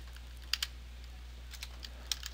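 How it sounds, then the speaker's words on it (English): Quiet typing on a computer keyboard, a few scattered key clicks in small bursts over a steady low electrical hum. "Let me just click once in it and start typing"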